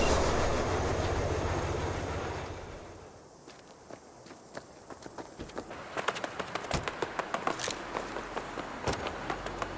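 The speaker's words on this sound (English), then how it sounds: "All right, the train's leaving." A train pulls away in the game Cyberpunk 2077. A steady rumbling hiss fades into a quieter stretch, and then a series of sharp metallic clicks and clacks build into an uneven rhythm.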